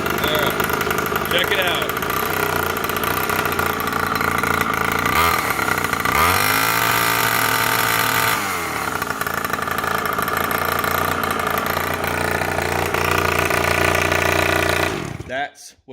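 A gas-powered pit bike converted from a Razor MX350 fires up and settles into a steady, loud, close idle with a few revs, while someone talks briefly over it before the engine cuts off at the end.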